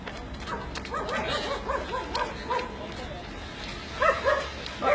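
A dog gives a run of short, high yips and whimpering yelps close by, with a louder burst near the end, over a steady background murmur.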